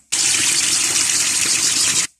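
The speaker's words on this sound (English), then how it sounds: "We'll run under hot water so we can free this up." Hot water gushes from a tap as an object is held under the stream, a loud, steady splashing rush that starts abruptly and cuts off after about two seconds.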